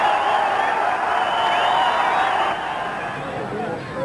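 A football crowd at Oriel Park, Dundalk, roars on the final day of the 1995 league title race, a steady loud wall of massed voices and cheering that eases slightly toward the end.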